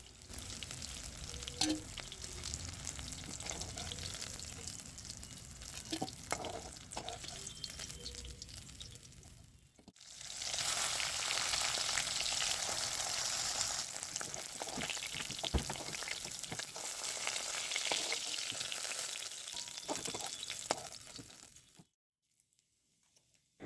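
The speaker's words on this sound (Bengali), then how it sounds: "মাছগুলো ভালো করে ভাজা হয়ে গেছে" Steady crackling sizzle of pomfret frying in hot oil, growing louder and denser midway, with occasional scraping clicks, then cutting off near the end.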